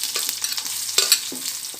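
Chopped shallots dropped into hot oil with mustard seeds: a close, bright sizzle with a few stirring scrapes and sharp pops, brief and without talk.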